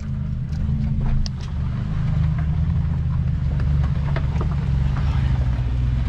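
A Jeep on 37-inch tires crawls over rocks on a Colorado off-road trail, giving a steady, loud, low engine rumble close by, with faint scraping and knocking above it.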